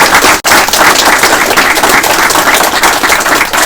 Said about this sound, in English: Can we have a big round of applause for